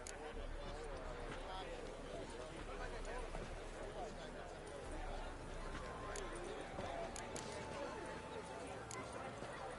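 Horses galloping in The Witcher 3 video game, a steady run of hoofbeats carried along under continuous game music and ambience at moderate volume throughout.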